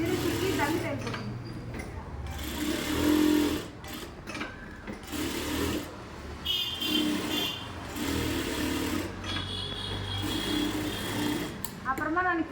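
A sewing machine stitches a blouse in a tailoring shop, a close mechanical whirr in stop-and-start runs, heard under someone speaking throughout.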